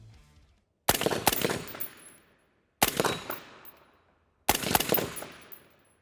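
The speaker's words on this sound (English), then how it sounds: "So I'm gonna see if I can make some shots here." Three sharp, loud rifle shots from an Aero Precision M4E1 fired from a barricade position, each a hard crack with a ringing decay, spaced about two seconds apart on an outdoor range.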